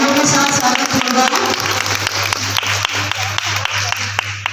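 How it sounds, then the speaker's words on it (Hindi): Applause welcoming a guest at a school women's program, dense clapping from a gathered audience that thins into scattered individual claps over a low steady hum. "तालियों के साथ स्वागत होगा।"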